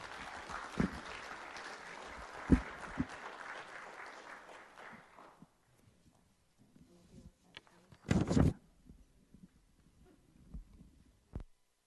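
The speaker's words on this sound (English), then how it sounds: "let's have one more round of applause for all of them" A county council open session audience gives a round of applause, moderate clapping that tapers off after several seconds, followed by quiet room sounds, a short loud burst of noise and a few isolated knocks.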